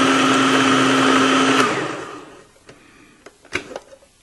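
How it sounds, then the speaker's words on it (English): A food processor grinds a bar of homemade laundry soap, whirring loudly and steadily, then winds down and stops, followed by a few scattered clunks and rattles. "I'm going to use the food processor."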